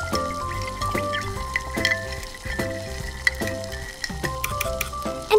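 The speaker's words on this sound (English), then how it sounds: "We need oil. Add garlic. Add onion. Stir it." Garlic and onion frying in oil in a tiny miniature pan, a steady close sizzle with light scraping stir strokes and small clinks throughout, no talking.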